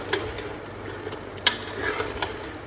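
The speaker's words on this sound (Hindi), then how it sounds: "इसको अच्छी तरह से भूनूँगी, ताकि अगर जो स्मेल वगैरह ना वो सारी ख़त्म हो जाए" Meat masala with green chillies stir-fried in a pan, a low steady sizzle broken by a few sharp scrapes and clacks of a spoon against the metal, close and fairly quiet, no voices.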